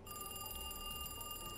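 A telephone rings in a Fredbear's horror video game, a steady electronic trill with sustained bright tones, fairly faint and heard alone over a low background hum.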